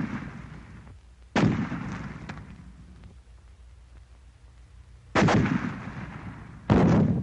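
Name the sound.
fragmentation grenade explosion in WW2 training film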